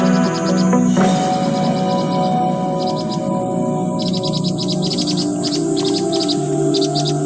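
A baby cuckoo chick in the nest gives repeated thin, rapid chirping calls in short bursts, close and fairly loud against a faint insect-like background hiss.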